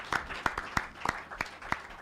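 A few people clap for mama on a live radio-style family programme, sparse, uneven handclaps about four to five per second, fairly close and modest in volume.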